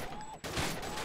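Sharp virtual gunfire from Gun Club VR, a quick burst of shots in about a second, loud and close against game background noise.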